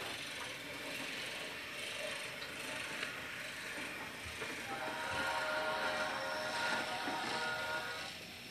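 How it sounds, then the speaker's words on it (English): A toy train runs along its track with a quiet, continuous whirring and rattle, rising slightly toward the end, with faint whistle-like tones over it. "Here comes the train. Here it comes."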